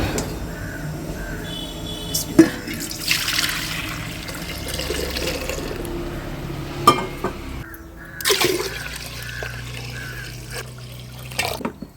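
Water sloshes and swirls as rice is rinsed by hand in a bowl for sweet pongal, with intermittent splashes, clinks and trickling at close range.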